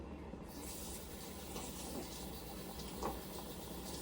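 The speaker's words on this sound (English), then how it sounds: "I'm going to add a box of water." Water pours from a carton into a pot of vegetable soup, a steady soft splashing hiss that runs on without a break at low volume.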